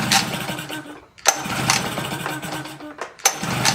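A small outboard boat engine in neutral is cranked in repeated start attempts, loud close bursts of sputtering that briefly catch and die between pulls.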